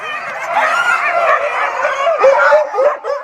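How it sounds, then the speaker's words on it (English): Excited sled dogs in an Inuit village yelp, whine and howl together as meat is brought back through the village, a close, dense chorus of overlapping barks and whimpers. "The dogs are super excited. They know a meal is coming."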